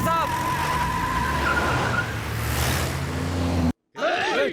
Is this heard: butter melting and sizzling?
no